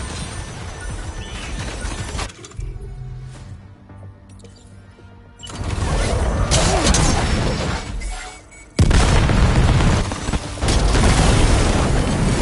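Weapons fire and explosions in the video game Death Stranding 2: loud, dense bursts of blasts and crashing impacts in several waves, with a quieter stretch between them and no talk.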